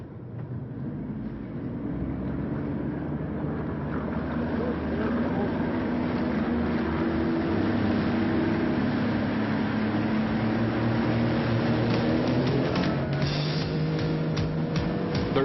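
Bass boat outboard engines start and idle together at the 1986 Bassmaster Classic fishing tournament. A loud, steady layered drone of many motors builds within the first couple of seconds and holds.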